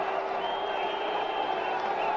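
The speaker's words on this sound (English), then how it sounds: "The crowd really having a ball here." A cricket crowd at an India vs Pakistan test match in 2005 gives off a steady, distant roar and murmur of cheering that holds evenly throughout.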